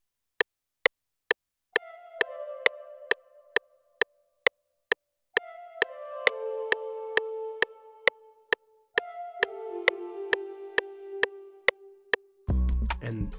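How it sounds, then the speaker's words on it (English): A basic synth flute sample called fat_flute plays soft sustained melodic phrases over a sharp, evenly spaced metronome-like click, ending in a loud burst of noise. "this is just a basic flute. It sounds like this."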